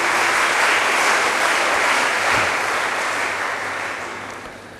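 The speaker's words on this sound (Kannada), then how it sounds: "ಅವರಿಗೊಂದು ಜೋರಾದ ಚಪ್ಪಾಳೆಯ ಮೂಲಕ ನೀವು ಧನ್ಯವಾದ ಹೇಳಬೇಕು" Students at an orientation program applaud in a loud, sustained burst of dense clapping that fills the room steadily for several seconds before beginning to taper off.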